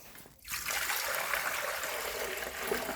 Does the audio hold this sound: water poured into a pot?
yes